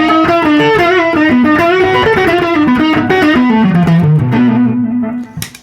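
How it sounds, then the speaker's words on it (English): Electric guitar played through a Duellist dual overdrive pedal on its deep setting, giving a fat, bluesy distorted tone as a loud, sustained melodic phrase that rings continuously before fading at the end. "Let's try that on the deep setting."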